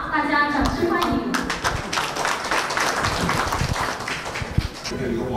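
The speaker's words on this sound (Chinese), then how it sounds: "下面我们用热烈的掌声，有请商务部中国国际贸易学会崔建甲秘书长讲话，大家掌声欢迎。" An audience at a cross-strait calligraphy and painting exhibition claps to welcome a speaker, a dense stretch of applause with scattered sharper claps that stays fairly loud, and a voice speaks over the start.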